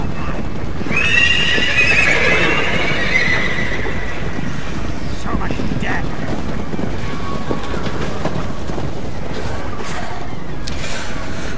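Cavalry horses neigh in the fantasy battle video game Total War: Warhammer. One loud, close whinny near the start is followed by a rumbling, windy wash of galloping hooves and battle noise.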